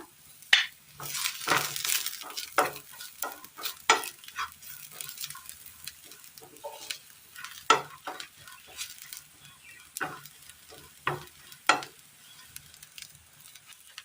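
Grated coconut frying in a pan with cinnamon, cloves and cardamom, a soft sizzle punctuated by repeated scraping and clinking stirs of a spoon against the pan, close and intermittent.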